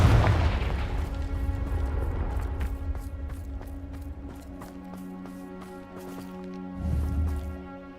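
Confringo explosive spell blast in Hogwarts Legacy, a loud booming burst at the start that rumbles and decays under a steady game music bed, with a second smaller thump near the end.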